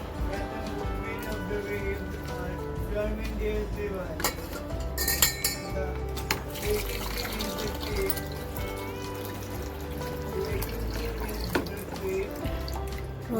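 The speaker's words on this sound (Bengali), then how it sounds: "ডিম সিদ্ধ জলটা ফেলে ঠান্ডা জল নিয়ে আসি ডিম সিদ্ধটার মধ্যে।" Hot water is poured off boiled eggs and cold water added in a home kitchen, with splashing and running water, sharp clinks of a vessel, and a voice talking over it.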